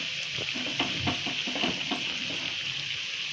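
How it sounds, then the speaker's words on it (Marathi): Onion bhaji frying in a pan of oil over medium heat, a steady crackling sizzle with scattered sharper pops and a few soft stirring or turning sounds, close and continuous with no talk. "चांगली खरपूस भाजून घ्यायची।"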